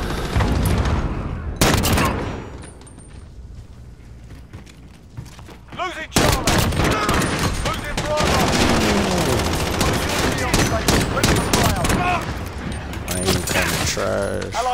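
Gunfire on the Gun Runner map in Call of Duty: rapid, loud bursts of automatic fire with sharp single shots, thumps and mechanical clatter, dense and close through most of the span, with a short lull early on and game voices talking over it.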